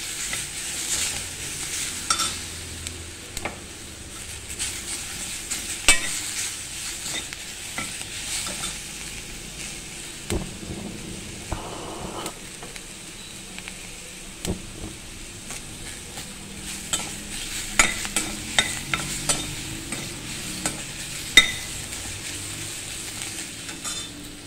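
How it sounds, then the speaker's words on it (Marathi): Ginger, garlic, mint and coriander sautéing in oil in a pan, a soft continuous sizzle broken by frequent scraping stirs of a spoon against the pan, fairly close. "आता आलं, लसूण, पुदिना आणि कोथिंबीर हे सुद्धा मी थोडंसं परतवून घेते"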